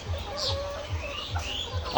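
White and red laying hens on a poultry farm cluck softly and repeatedly, a low rhythmic murmur of many birds close by with occasional higher calls above it.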